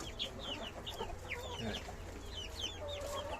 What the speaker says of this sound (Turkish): Evet horozlarımız da gelmeye başladı.